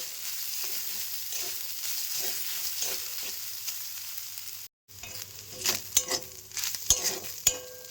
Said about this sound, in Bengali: নারকেলটা তেলের সাথে মিশিয়ে নিয়ে গ্যাসের আঁচটা কমিয়ে দিয়ে আমি এটাকে ভাজা ভাজা করে নেব।